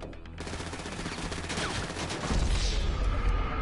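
Rapid gunfire in a fusillade, dense overlapping shots that grow louder and heavier toward the end, continuous and harsh with no clear pauses.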